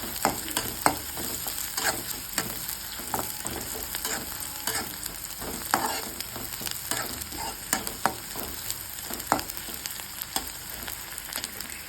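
Ingredients frying in a pan for hotel-style chilli chapati, a continuous close sizzle broken by regular scraping strokes of a spatula stirring, with no one speaking.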